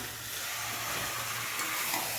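Meat stirred and fried in a pan in a home kitchen gives a continuous soft sizzle and hiss, with light stirring scrapes throughout and no voices.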